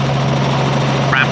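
Helicopter in flight over the Kent coast near Ramsgate and Margate, heard from inside the cabin as a loud, steady rotor and engine drone for the whole moment, with a brief voice near the end.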